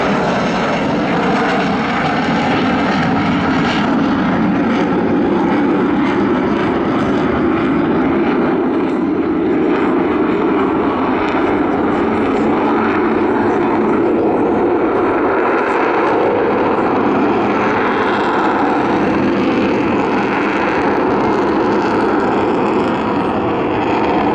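An Avro Vulcan bomber jet performs a display at the Southport Air Show 2015, its engines producing a loud, sustained, rumbling roar that fills the air steadily throughout.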